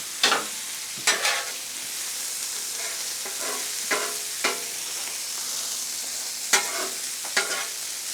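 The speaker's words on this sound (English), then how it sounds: "we've got some onions that are, I call it browning" Onions and burgers fry on a hot griddle, a steady close sizzle punctuated by several sharp scrapes and taps of a spatula on the metal surface, with nobody speaking.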